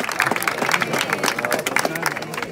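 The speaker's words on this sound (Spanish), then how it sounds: "¡Aplausos!" Audience clapping and cheering at a 2vs2 freestyle rap battle in Valencia, a dense, steady wash of applause with crowd noise and voices mixed in throughout.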